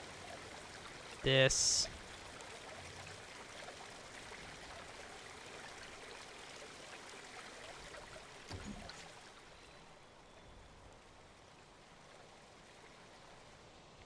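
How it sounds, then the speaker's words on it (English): A steady, quiet rush of trickling water runs throughout, with a stream splashing against rocks in the Planet Coaster game world, briefly interrupted by a loud short burst near the start; a voice speaks briefly. "the water is kind of hitting up against this rock, splashing up, and, you know, it's trickling in"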